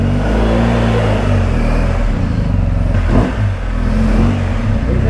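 Motorcycle with a new aftermarket exhaust revving hard and pulling away, a loud, steady, rumbling engine tone with a brief dip in throttle midway, close to the listener.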